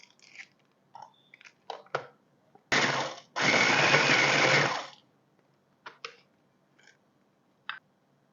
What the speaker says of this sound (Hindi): ओरियो बिस्किट को मैं चॉपर में चॉप करूँगी